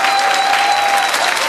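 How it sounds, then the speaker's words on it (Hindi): Audience applause at a Hindi comedy poetry gathering (hasya kavi sammelan), a dense, loud, steady clapping from a crowd that fills the whole moment without any talk over it. "तो ताली जोरदार बजा दीजिए एक बार।"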